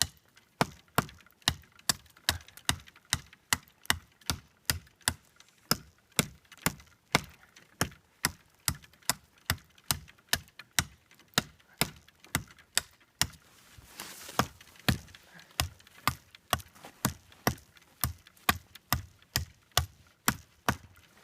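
A Condor Garuda knife chops into a 2.5 inch oak tree, landing dozens of sharp, steady woody whacks in a fast, even rhythm, close and loud, with no talking.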